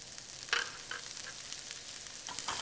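Girolle mushrooms sizzle in butter in a pan for griddled scallops: a steady, close, bright frying hiss with small pops and spits throughout.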